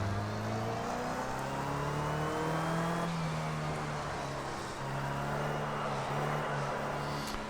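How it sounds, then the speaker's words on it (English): A race car in Project Cars 2 slides and drifts on worn tyres, its engine droning steadily with shifting pitch. The sound stays close and continuous, with a faint scrubbing hiss underneath. "Bit of a sliding, drifting there"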